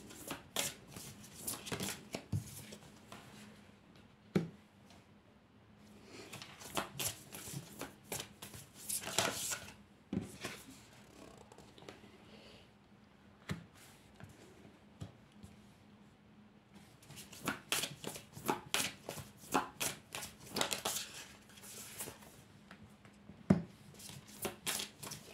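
Oracle card decks are shuffled by hand in bursts of riffling and slapping card noise, fairly close and soft, with brief pauses between rounds and no talking.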